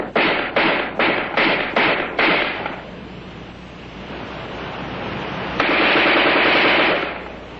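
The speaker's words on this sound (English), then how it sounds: "In offhand firing against a man-sized target at combat range, the AR-10 is in a class by itself" An AR-10 rifle fires six sharp, evenly spaced shots in quick succession, loud and close, followed by a rolling, washing rumble that swells again toward the end.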